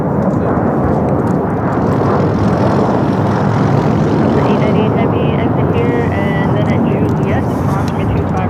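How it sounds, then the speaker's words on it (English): A Delta Boeing 767-400ER touches down on the south side at LAX, a loud, continuous jet engine roar dominating the clip at fairly close range, steady throughout. "Just had a Delta 767 400 ER touchdown here on the south side"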